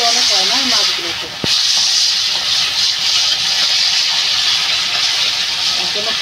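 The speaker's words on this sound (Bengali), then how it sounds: "বন্ধুরা তেলটা গরম হয়ে গেছে, মাছগুলো দিয়ে দেবো।" Pangas fish fry in hot oil in a wok, giving a loud, steady, close hiss and sizzle throughout, with a brief splash or clatter early on and a voice speaking briefly at the start.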